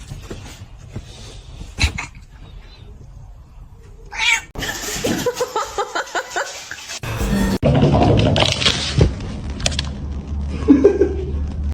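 A cat meows and caterwauls in a series of loud, repeated cries, with a dog barking at times and brief background voices.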